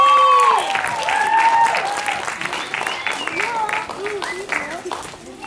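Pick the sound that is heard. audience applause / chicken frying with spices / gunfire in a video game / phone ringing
audience applause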